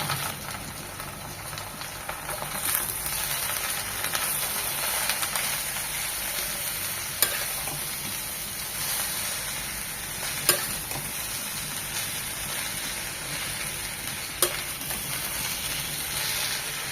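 Fresh botta (bantwa) greens, cut into large pieces, sizzle and hiss steadily in a pan over onions while being stirred, with a few sharp scraping clicks standing out.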